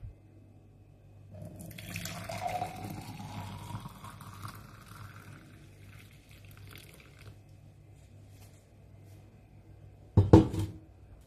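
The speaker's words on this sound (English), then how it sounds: "Then you pour some into the cup." Liquid pours gently into a cup for a few seconds, a soft trickling stream that rises in pitch, followed by quiet and a sharp clink near the end.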